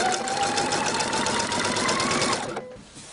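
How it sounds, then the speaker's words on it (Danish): A sewing machine runs a steady, continuous stitching seam along the folded top edge of a homemade shopping net, a close, even mechanical whir that stops abruptly near the end. "Så fik vi syet den øverste kant, bukket om her"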